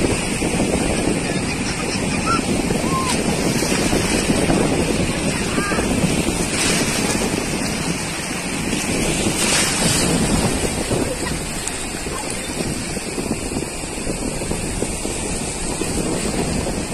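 Sea waves wash continuously onto Nevre beach, a steady broadband roar of surf blended with wind buffeting the microphone, loud and unbroken throughout.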